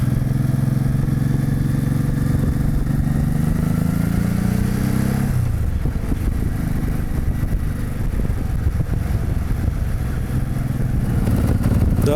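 A Honda VT700 motorcycle rides along steadily toward a golf course, engine droning loud and close for the full stretch, its pitch sliding down partway through before building again, with no voices.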